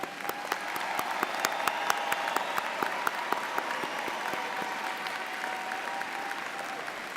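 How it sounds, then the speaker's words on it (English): An audience at the UIC graduate winter commencement ceremony of 2015 claps for graduates earning departmental distinction, steady applause from a large hall with sharp individual claps standing out near the front. "Everyone, please join me in applauding these outstanding graduates."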